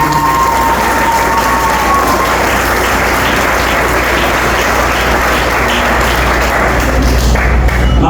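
An audience gives loud, continuous applause at a championship finale with a trophy presentation, a dense wash of clapping with scattered thumps and faint cheers running steadily throughout.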